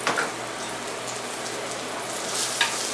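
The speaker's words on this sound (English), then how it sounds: "I'm going to saute those down until I get most of the water out of that" Mushrooms sauté in a skillet with a steady, even sizzle that carries on throughout, close and fairly quiet, with no talking.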